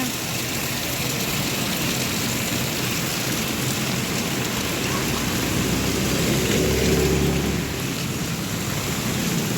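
Heavy rain pours down steadily, a dense continuous hiss with a low rumble swelling briefly partway through.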